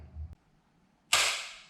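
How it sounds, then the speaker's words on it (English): A sudden sharp crack as a seized nut on a Mazda RX-8 engine snaps loose under a socket wrench breaks the quiet after a brief low thud, then fades quickly. "I'm going to use a standard socket on it to see if I can get it to break loose and come off"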